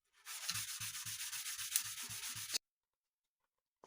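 Steady back-and-forth rasping of hand sanding, working up to 3,000 grit, about ten even strokes in a brisk rhythm, close up, then abrupt silence.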